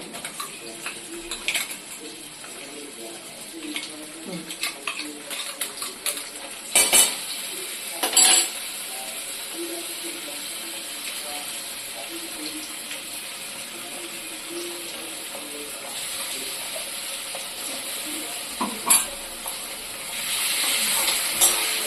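Spice paste frying and being stirred in a pan for a mushroom dish: a steady hissing sizzle throughout, with intermittent metal spatula scrapes and clinks against the pan, close and even.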